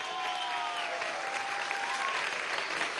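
A crowd at a Venezuelan school-feeding program relaunch event applauds a musical group after its medley, a steady, fairly quiet patter of clapping heard from a distance.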